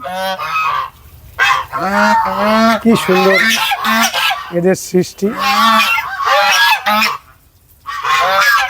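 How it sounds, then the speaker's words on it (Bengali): Domestic geese beside a pond in an orchid and seasonal-flower garden honk loudly and repeatedly in close, overlapping bursts, with a person briefly speaking between calls. "রাজহাঁসগুলিকে দেখুন"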